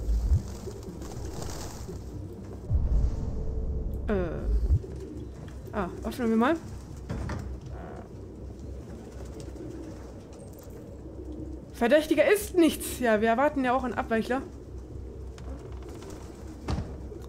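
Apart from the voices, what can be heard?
pigeons cooing in video game Detroit: Become Human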